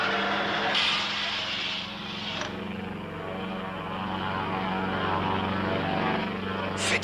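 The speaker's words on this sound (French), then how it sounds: "Fais décoller ce putain d'avion." Airplane engines run steadily with a droning propeller roar in a dramatized television series scene, loud and continuous with a couple of brief higher bursts, no speech audible.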